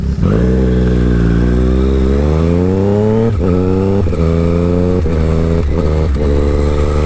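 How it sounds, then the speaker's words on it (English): A 2020 Triumph Street Triple 765 RS motorcycle accelerates hard, its loud, close engine note rising steadily and dipping briefly at each quick-shifted gear change, with about four rapid upshifts in a row. "See the old quick shifter there? Ever so smooth still. I'm changing gear."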